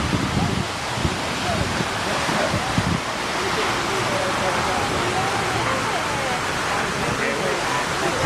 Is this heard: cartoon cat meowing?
no